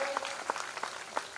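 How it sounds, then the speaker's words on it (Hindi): Scattered clapping from a crowd at a Shiv Mahapuran religious recitation, fairly faint and distant, with a few sharper claps standing out. "तो मैं चाहता हूं पूरे बेड़वाल परिवार के लिए आप सब लोग तालियों से उन्हें सम्मानित करें।"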